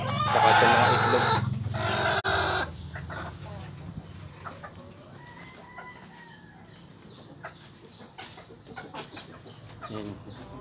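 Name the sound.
chickens clucking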